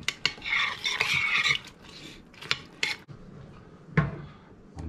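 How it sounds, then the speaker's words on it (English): Paprika powder is stirred into liquids in a pan for slow-cooker spicy Hawaiian pineapple pork. A spoon makes several quiet scraping, clinking strokes against the pan in short, uneven bursts, with no talking. "Just stir that powder, that paprika, into those other liquids a bit"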